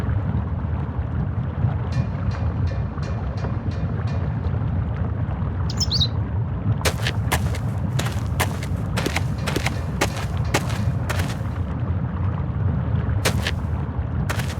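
Gunshot-like blasts from the video game The Book of Unwritten Tales ring out as a series of sharp, loud cracks, a cluster of about a dozen bursts in the second half, over steady low rumbling game ambience with some chirping.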